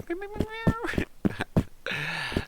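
Several short high-pitched cat meows in a video game, cute and chirpy, repeat over a few seconds, with a person talking in between.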